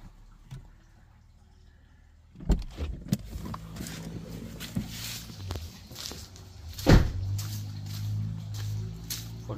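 A car door is opened once the engine has been switched off, on a day of heavy rain. After a quiet stretch comes a sharp clunk, then cabin rustling and a second solid thump a few seconds later.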